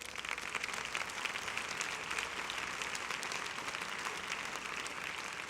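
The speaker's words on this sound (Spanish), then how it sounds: "Dele un fuerte aplauso al Señor" Steady applause from a church congregation during a sermon, a dense, even wash of clapping that holds at a moderate distance for the whole stretch with no voices over it.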